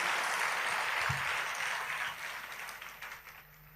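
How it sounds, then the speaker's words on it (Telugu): A church audience claps in a broad, fairly loud wash of applause that slowly fades toward the end. "కొట్టు చప్పట్లు గట్టిగా"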